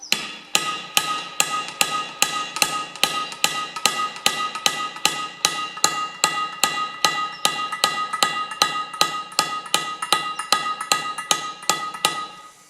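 Steady metallic hammer taps on the end of a socket, expanding a plug in a Ferguson FE35 tractor rear axle housing; a long, evenly paced run of sharp, ringing strikes, close and alone with no talk.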